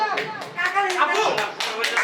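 A crowd applauds a winner at a family prize-giving, with irregular bursts of hand claps mixed with voices talking over the applause.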